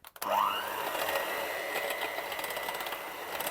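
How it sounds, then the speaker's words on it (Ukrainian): A steady electric mixer whir starts up with a brief rising pitch, then holds a constant motorized hum as cream is whisked, no talking. "Спочатку взбиваю вершки"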